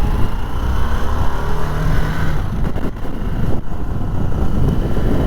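A Harley-Davidson Sportster S 1250 cruising on the road, its engine drone buried under heavy, continuous wind rush buffeting the microphone, loud and unbroken throughout.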